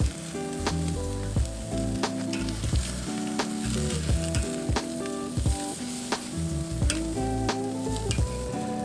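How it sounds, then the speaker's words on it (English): A lobster tail sizzles loudly on a charcoal grill, a continuous crackling hiss with sharp pops and ticks, while steady tonal music plays underneath. No speech. "I'm just going to set that right on the grill"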